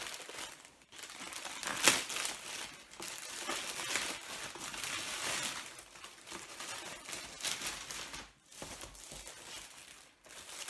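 Merch packaging being opened, with close, crisp crinkling and rustling of plastic or paper in dense bursts and brief pauses, quiet overall with no talking.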